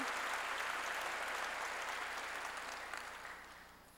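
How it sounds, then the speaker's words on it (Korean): A church congregation breaks into applause to glorify God during a sermon, a broad, even wash of clapping that holds steady and then gradually fades over a few seconds, with no talking. "박수로 하나님께 영광 돌려야 된다"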